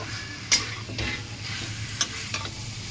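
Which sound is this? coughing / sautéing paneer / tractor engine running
sautéing paneer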